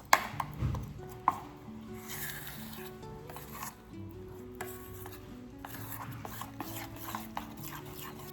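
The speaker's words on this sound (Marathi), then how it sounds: "हे जे बॅटर आहे छान मिक्स करायचं" Mango rava cake batter being mixed in a bowl, with soft stirring and scraping sounds, a couple of sharper knocks near the start, and faint background noise.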